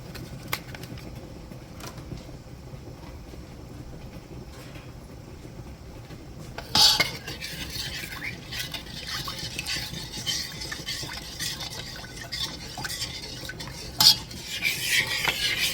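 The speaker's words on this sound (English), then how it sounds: "You want to mix this in well and constantly stir it." Honeysuckle jelly mixture being stirred in a pot, with quiet repeated scraping of a utensil against the pot and a few louder clinks, close and alone with no talk.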